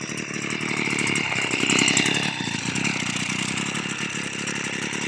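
A STIHL FS 55 brushcutter engine idles after a restart, running somewhat rough with a steady, buzzing, fairly loud drone for the whole stretch and no voices.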